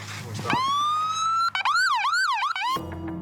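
A loud police siren wails, holding a long rising tone and then switching to a rapid up-and-down yelp before cutting off, over a low engine rumble.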